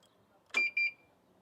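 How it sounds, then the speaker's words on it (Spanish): A Kymco Xciting 400 scooter from 2024 gives two short electronic beeps as its keyless system activates, close and clear over a quiet background, with a faint click at the start. "escuchas ese pitido y aquí se activa"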